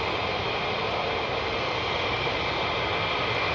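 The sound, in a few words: KC-135 tanker aircraft taking off from Mildenhall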